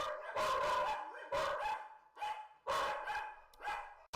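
Several dogs bark loudly and close by in bursts, agitated by a delivery arriving at the house, with short pauses between volleys.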